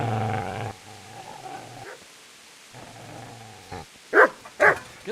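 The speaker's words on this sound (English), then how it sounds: "Get away, you mutt!" A dog growls and barks in the medieval video game Kingdom Come Deliverance, a low snarl at first, then quiet, then two sharp loud barks close by near the end.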